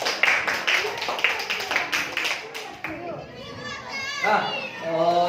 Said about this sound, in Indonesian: Berikan aplaus dulu tepuk tangan meriah untuk kelompok 3